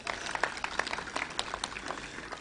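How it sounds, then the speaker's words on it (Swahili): An audience at a Nairobi health services event claps in a steady, moderate ripple, many hands patting together at mid distance without a clear peak. "Makofi kwa NMS."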